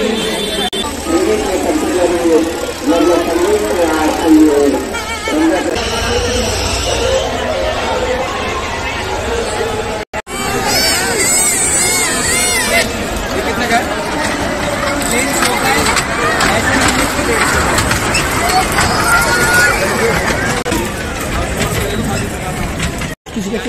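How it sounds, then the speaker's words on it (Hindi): Dense crowd babble in front of a temple at the Siddhbali Anushthan Mela fair, a steady roar of many voices and footsteps close by, with one voice talking over it. "भीड़ देखो भाई, फुल भीड़ हो रही भाई मंदिर के सामने।"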